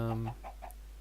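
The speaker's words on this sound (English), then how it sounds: "I've got a little friendly chicken. You're my pet chicken." A chicken in a hardcore-mode video game gives a few short clucks over a steady low hum, the calls faint and fairly close, with no talking.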